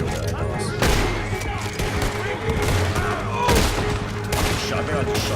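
Gunfire in Red Dead Redemption 2, a loud, dense run of shots and bursts with sharp cracks standing out, backed by a steady noisy din and occasional voices.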